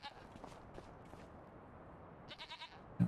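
Sheep and goats bleat in the Farming Simulator 25 video game, several short wavering calls scattered across the clip at moderate volume, with a brief thump near the end.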